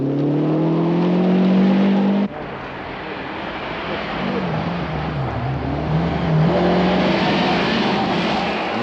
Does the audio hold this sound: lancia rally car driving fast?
yes